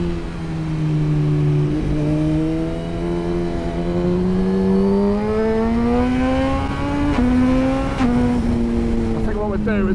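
A Suzuki GSX-R motorcycle engine accelerates with a steady, rising drone that climbs in pitch over several seconds and dips briefly at gear changes, loud and close throughout.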